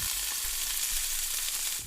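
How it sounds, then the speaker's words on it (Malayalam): Fish frying in a pan sizzles steadily with a bright, crackling hiss, close and continuous with small pops, alone without talk. "കുക്കർ ഒരു വിസിൽ വന്നപ്പോഴേക്ക് എടുത്ത് മാറ്റി മീനങ്ങ് വറുക്കാനിട്ടു"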